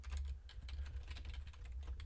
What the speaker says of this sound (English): I'm just typing them all out